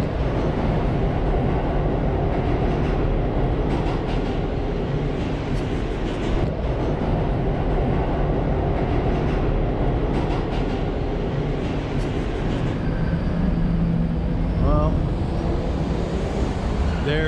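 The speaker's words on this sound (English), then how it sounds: "I have to take the B train, which should be coming along soon. Here comes the B now." A New York City subway B train pulls into a station platform, a loud continuous rumble and rattle of rail cars with squealing brakes near the end, steady throughout.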